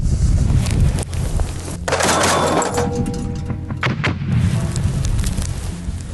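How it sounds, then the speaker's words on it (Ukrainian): A single loud gunshot bursts out sharply, then decays into a rumbling, noisy tail against steady background noise. "Увага, постріл!"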